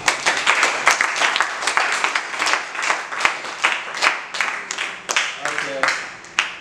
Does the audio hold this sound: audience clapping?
yes